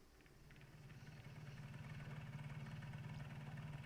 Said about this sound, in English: This is about as far as the tugboat can go.